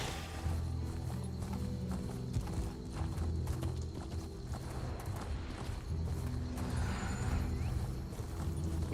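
Horse hooves pound in a steady galloping rhythm while riding a mount in the video game Elder Scrolls Online, a continuous clip-clop that stays close and even throughout.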